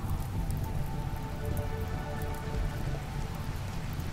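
Steady rain falls in the video game RimWorld, a continuous soft patter of drops on surfaces with a low rumbling bed beneath, even and unbroken.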